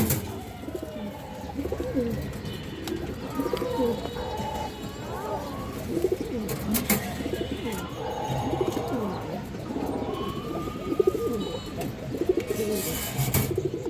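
Pigeons coo repeatedly in a dense, continuous chorus at a pigeon market, amid general bird chatter and faint background voices.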